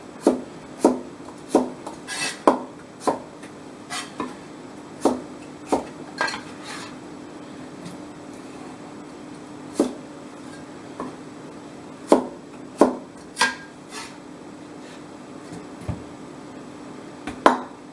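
Cleaver chopping potatoes on a board, a series of sharp close knocks at an uneven pace with short pauses between bursts, alone without talk.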